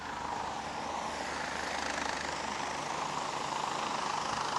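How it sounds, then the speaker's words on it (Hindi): A helicopter carrying a state chief minister arrives to land at a helipad before a rally, its steady broadband engine and rotor roar loud and continuous throughout, with no talk over it. "आप देख सकते हैं कि सीएम साहब का हेलीकॉप्टर है वो आ चुका है और हेलीकॉप्टर स्टेशन पर वो उतरने के लिए बिल्कुल तैयार है इस वक्त"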